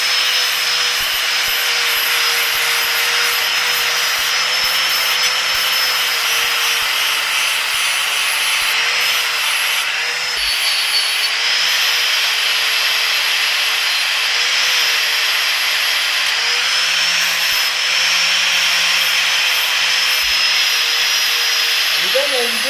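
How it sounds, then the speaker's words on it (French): A surfacing grinding disc scraping the finish off a metal tube structure for a rocket stove, a loud continuous abrasive whine and rasp holding steady throughout with slight pitch wavers. "on va prendre la meule à surfacer. Puis, on va gratter un petit peu pour enlever tout le fini de surface là, sur la structure"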